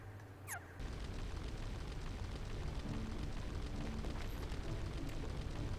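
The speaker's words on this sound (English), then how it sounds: "There is a constant fire burning sound." A constant fire-burning roar glitch in the video game Kingdom Hearts 2 begins abruptly after a brief chime and carries on as a dense, steady crackling rush, loud and unbroken with no voices.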